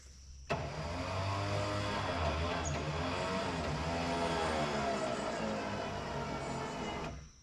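A truck engine runs steadily and fairly loud for about seven seconds while logs are moved to a pile, starting with a sharp onset and holding a constant drone throughout, with no talk.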